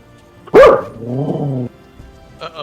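A dog in Final Fantasy XIV lets out one sharp, loud bark, followed by a lower, drawn-out growling whine, then quiet.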